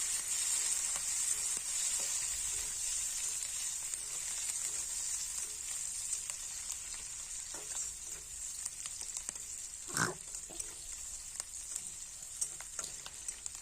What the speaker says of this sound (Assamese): এতিয়া অলপ টাইম ভাজি লম